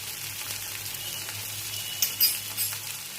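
Turmeric powder lands in a hot pan and sets off a steady, close sizzle with a few soft crackles and clicks near the end. No one speaks.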